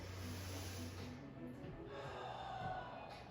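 A slow, deep inhalation through the nose during a yoga flow, heard as a breathy rush that swells and fades quietly over a faint steady background.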